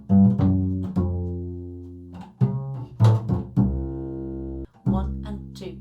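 A plucked double bass walks through a bass line, deep round notes ringing out one after another with short gaps, played alone at moderate volume.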